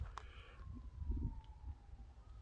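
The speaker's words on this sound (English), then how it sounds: "You can hear a little siren in town." A faint siren wails far off in the town of St. Johns, Arizona, its tone drawn out and slowly falling, over low rumbling outdoor background noise.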